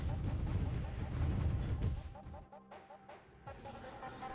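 Mortar artillery units in the video game Warzone 2100 firing on buildings: a dense burst of booming impacts for about two seconds, then scattered lighter thuds and crackles amid game tones, moderately faint overall.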